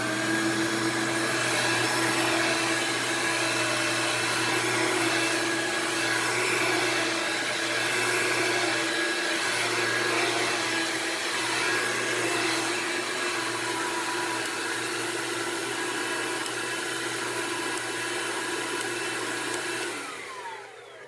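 A Hoover Linx BH50010 cordless stick vacuum runs continuously with its brush roll engaged, giving a loud, even whine and rush of airflow. It winds down at the very end, with no talking.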